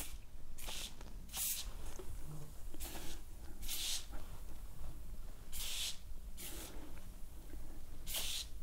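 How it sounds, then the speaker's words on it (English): A series of short, sharp aerosol bursts of foaming tire cleaner sprayed on an electric unicycle tire, about eight in all, hissing loudly at irregular intervals against a quiet background. "So of course, first I spray the tire."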